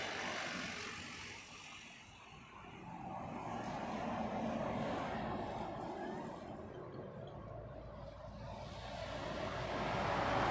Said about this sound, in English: Next in, Asiana Airlines, inbound from Seoul. This one an A350-900.